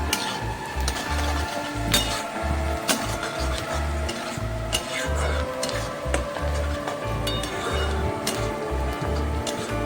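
A spoon stirs turmeric sautéing with eggplant in a pan for bharit, a soft sizzle under repeated rhythmic scraping and knocking against the pan, close-up, with no speech.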